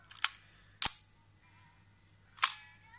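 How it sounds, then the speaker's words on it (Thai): A film SLR shutter set to bulb fires close by: sharp mechanical clacks, with one opening and a closing snap about half a second apart, then another click, each crisp against near silence. "ชัตเตอร์บี"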